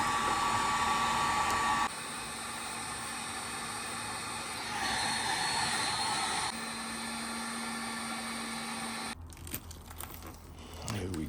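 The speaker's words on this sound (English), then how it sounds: "let's get the heat gun and start heating that up. This is a slightly industrial heat gun, and just start slowly heating it up." An industrial heat gun warming a carbon fiber wrap on a RAM 1500 B-pillar gives a loud, steady blowing roar that shifts in pitch and intensity a few times before giving way to rustling and handling noises near the end.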